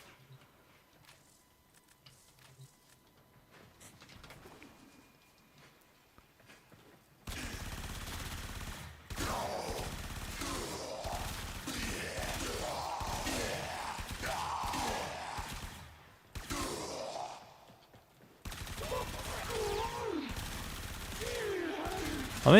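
Rapid bursts of automatic weapon fire from the Warframe video game crackle loudly in long sustained streams, broken by brief pauses, after a quiet opening stretch.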